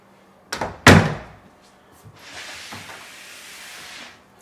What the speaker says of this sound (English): So 2 inches thick, white ash, clear. These panels, each one of these doors weighs like 125 pounds.